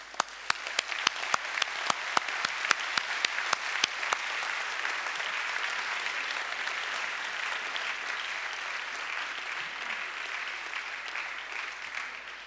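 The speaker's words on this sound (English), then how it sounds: "I think that calls for a round of applause right off the bat" Audience applause at the European XFEL opening ceremony in 2017, beginning with sharp individual claps that quickly merge into a sustained, even round of clapping from a large crowd in a hall.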